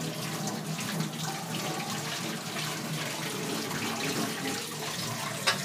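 Tap water running steadily while a kadhai (wok) is washed in a home kitchen sink, a continuous splashing hiss with small clinks, close and alone.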